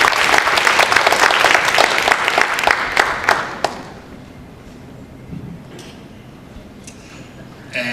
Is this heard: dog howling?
no